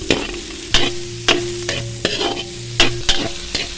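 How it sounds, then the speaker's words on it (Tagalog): Pork, onion and garlic browning and sizzling in a pan for chopsuey while a utensil scrapes and stirs in repeated strokes, close and clear. "I-brown lang natin ang ating baboy. Lagay na natin ang ating sibuyas at bawang."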